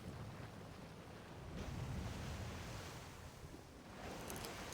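A waterfall in the video game Danganronpa V3 gives a steady broadband rushing roar, close and continuous, swelling slightly midway with a brighter hiss near the end, with no voices over it.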